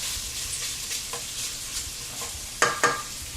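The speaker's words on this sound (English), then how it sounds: "We're going to add all the vegetables and stir them together." Vegetables and pork sausage are stirred together in a sizzling pan, a soft steady frying hiss broken by brisk scraping strokes and a couple of sharp clanks near the end.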